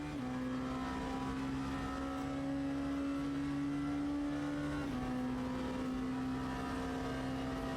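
A race car engine in the Le Mans Ultimate sim racing game, GT3 or P2 class, holding a steady high drone at near-constant revs with a brief pitch shift around a gear change, loud and continuous with no talk.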